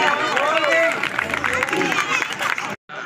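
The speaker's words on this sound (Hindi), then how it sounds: "जोर से तालियों से स्वागत करें, तालियां जरूर बजाएं।" A crowd at a Guru Ghasidas Jayanti fair in Turkadih claps and cheers in a dense, steady wash of applause mixed with voices, breaking off abruptly just before the end.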